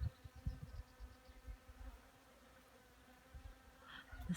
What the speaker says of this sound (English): Yeah, that's the bees.